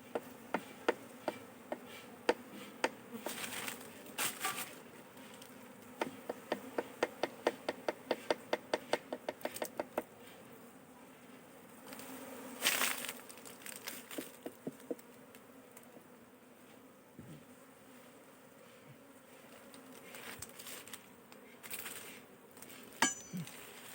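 Honey bees buzz intermittently close up at a small honey-making shop, with scattered sharp ticks and taps breaking through a quiet background.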